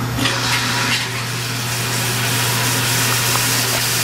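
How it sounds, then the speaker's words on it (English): Water refilling a toilet tank after the supply valve is turned back on, a steady hissing rush with a constant low hum underneath, close and unbroken. "Go and turn the water back on using the tool."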